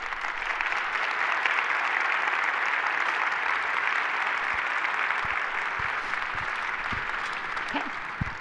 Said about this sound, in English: You can see by the applause